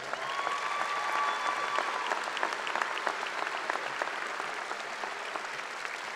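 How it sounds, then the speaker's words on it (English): Steady applause from a sizeable audience, a dense patter of clapping that holds at an even level throughout. "Let's give all our Ranger Pride recipients a big round of applause."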